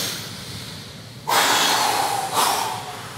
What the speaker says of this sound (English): take a deep breath in through your nose if you can